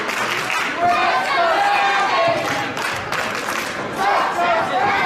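A wrestling crowd at a KCXW Saturday Slam show roars and cheers steadily throughout, a dense wash of voices with shouts rising in waves, loud and continuous.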